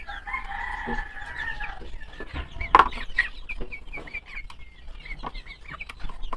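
Backyard chickens, white leghorns among them, cluck steadily and close by, with overlapping calls and brief rises in the flock's chatter and no talking.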